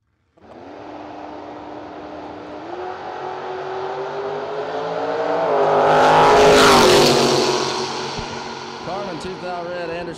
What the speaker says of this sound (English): Anderson in the 79 Camaro